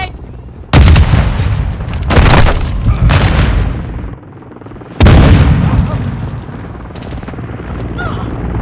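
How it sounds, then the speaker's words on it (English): Sticky grenade blasts in Call of Duty Modern Warfare 2 multiplayer: several loud, close booms with sharp attacks and rumbling decays, the last one heaviest, amid battlefield noise. "Tossing sticky grenade!"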